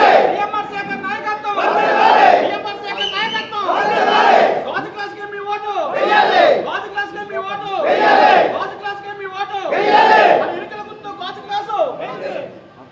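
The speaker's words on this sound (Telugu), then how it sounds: "క్లాప్స్ తో గట్టిగా ఒకసారి చెప్పండి." A crowd at a JanaSena political rally in Amalapuram shouts together in loud, rhythmic bursts, repeated rising cheers about every two seconds, voices blending into a chanting roar.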